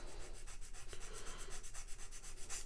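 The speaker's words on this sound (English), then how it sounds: "I'll hold the sanding stick like that on the part and just gently" Close, quiet rhythmic rasping of a sanding stick worked back and forth over a small plastic part of a 1:35 scale Saladin armoured car model kit, each stroke a soft scratchy swipe in a steady repeating pattern.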